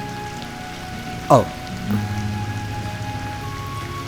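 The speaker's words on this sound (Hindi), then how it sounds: "वो बारिश बहुत तेज हो रही है" Heavy rain hisses steadily in the background throughout, with a brief spoken word cutting through and a faint low hum underneath.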